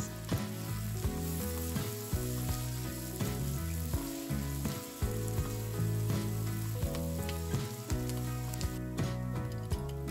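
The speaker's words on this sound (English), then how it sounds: "put our onions in there and saute those up until they are starting to get translucent and tender" Onions sautéing in bacon grease and butter for cheesy potato soup, an even, close sizzle holding steady throughout while a utensil stirs and taps the pan at regular intervals.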